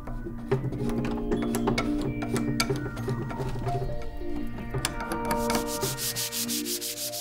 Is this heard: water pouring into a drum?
no